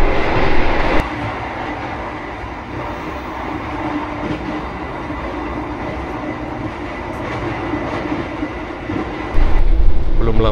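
The Argo Semeru train running near top speed between Yogyakarta and Jakarta fills the carriage with a loud, constant rumbling roar and rattle, rising louder toward the end.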